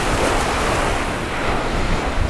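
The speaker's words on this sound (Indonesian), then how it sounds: "mengajak mendengar desah-desahan ombak di sore hari" Ocean waves wash steadily onto Teluk Bayu beach at sunset, a dense continuous roar of surf mixed with wind buffeting the microphone, loud and close with no voices.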